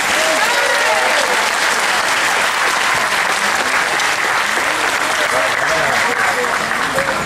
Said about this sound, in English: Big round of applause for all these boys and girls.